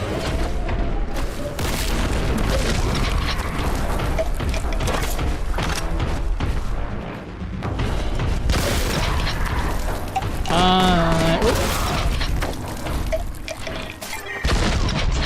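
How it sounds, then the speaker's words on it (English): A frag grenade thrown and exploding in a video game, a loud boom among dense, continuous gunfire, crashes and mechanical effects. "One frag grenade."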